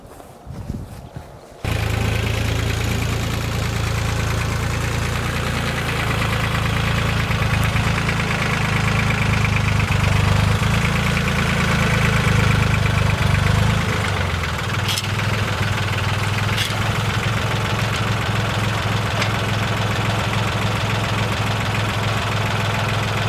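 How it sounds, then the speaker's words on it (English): A tractor engine idling, starting abruptly after a brief quiet moment and then running loud and steady with a knocking, low diesel rumble that shifts slightly in pitch partway through. "I'm going to go get the tractor and get to work."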